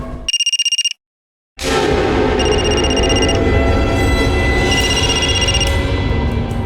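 A phone's electronic ringtone trills in short bursts, first alone, then repeating over a loud, rumbling background noise.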